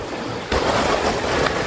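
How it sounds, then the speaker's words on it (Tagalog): Ocean waves surge over a rock shelf at Wattamolla Beach in New South Wales, Australia, a loud, close rush of churning water that swells suddenly partway through and keeps washing, with no speech. "Lumampas na alon."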